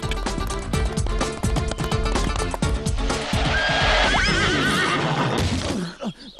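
King Arthur's horse, Alan, neighs loudly over busy clip-clopping hooves, a long shrill whinny rising above the steady trotting before the hoofbeats fade out.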